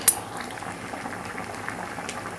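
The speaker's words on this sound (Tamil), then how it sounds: "இதுதான் பால் கொழுக்கட்டை நல்லா வெந்துக்கிட்டு இருக்குது" Milk kozhukattai, sweet rice-flour dumplings, boiling in milk in a pot, a steady bubbling simmer that runs throughout at moderate level with no talk.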